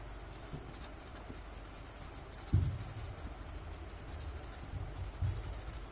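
Soft, scratchy strokes of a pen shading tangle patterns on paper, quiet and close, with a couple of slightly louder taps along the way.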